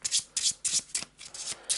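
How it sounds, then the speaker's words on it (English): Quick riffle shuffling of a discard pile of cards from the Descent 2nd Edition board game, a string of sharp, close, rhythmic bursts of flicking cards about twice per second. "Quick shuffle."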